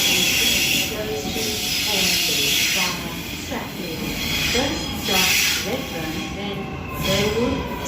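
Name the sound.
Sydney Trains passenger train at Central station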